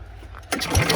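A 270cc stage 2 go-kart engine is cranked in a starting attempt, giving a sudden close burst of mechanical rattle and churning after a quieter lead-in, loud and brief.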